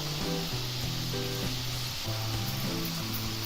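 Maida roasting in a pan on low heat for a sweet, a continuous soft sizzle and hiss with occasional stirring scrapes, quiet and close, under a steady background hum.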